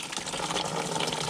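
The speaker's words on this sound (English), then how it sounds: "So here comes the water now" Water gushes steadily out of the radiator of an Acura RSX #14 USTCC race car during a winter teardown, a close, continuous splashing rush with no talk.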